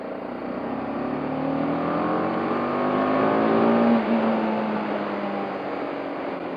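A BMW G 310 GS single-cylinder motorcycle revs under throttle, its engine note rising sharply to a peak and then settling back, heard steadily and fairly close with no talking.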